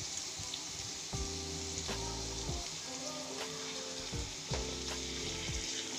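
Red chilies and asafoetida sizzle steadily in hot oil for a Tamil neer kolukattai tempering, a loud continuous crackle with occasional sharper pops and clinks of a utensil against the pan.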